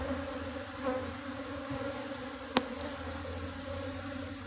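Honey bees buzz in a steady, even drone at a springtime hive, a continuous close hum with one brief sharp click partway through and no voices.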